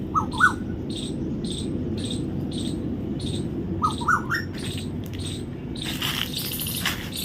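An Asian koel calls from a guava tree with short rising whistles, a few repeated notes standing out over steady insect-like chirping outdoors.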